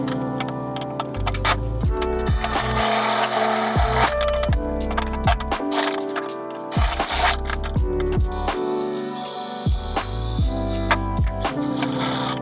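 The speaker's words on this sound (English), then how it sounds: "now I just need to screw them in place to make sure they don't come down on me" Shelves are screwed into racking in a workshop with a power drill, whose motor whirs in repeated rising and falling bursts, loud and close, alongside clicks and knocks of wood and metal, with no talking.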